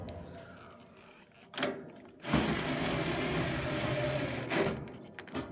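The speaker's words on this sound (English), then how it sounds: "cordless drill here. Put it in forward motion, and we'll go ahead and we'll get the screws installed here" Cordless drill driving screws into a Whirlpool dryer during a repair: a short click, then a steady whirring motor burst of about two seconds at close range, followed by a brief clunk.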